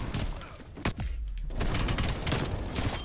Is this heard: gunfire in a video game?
yes